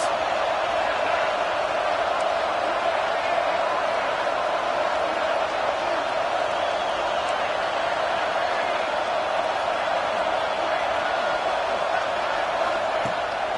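A football stadium crowd roars for the defense on a third down in a Michigan versus Texas game, a steady, massed wall of cheering that holds without letup.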